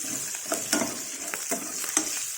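Green chillies sizzling and frying in a pan for coconut chutney, a steady close crackle with periodic stirring scrapes of the spoon, no talk.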